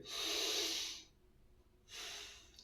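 Deep, slow breathing during a yoga warm-up with standing stretches: one long, airy breath, a quiet pause, then a second breath, close and clear with no talking.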